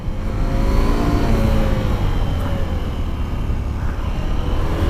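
A KTM SMT 890 motorcycle engine revs hard and climbs in pitch during a fourth-gear wheelie, a loud continuous roar with no talking.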